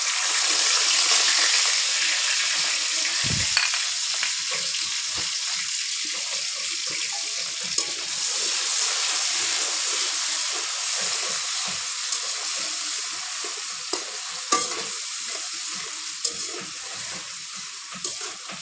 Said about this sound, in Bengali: পেঁয়াজগুলো হালকা ভেজে নেব, বেরেস্তার মতো করে না, হালকা ভেজে নেব।